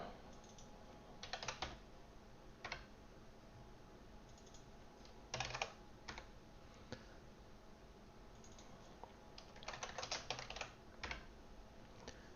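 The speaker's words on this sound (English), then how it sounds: "Just going to type it out." Code being typed on a computer keyboard while setting up navigation in a Flutter app: quiet clusters of rapid key clicks in short bursts separated by pauses, with no one speaking.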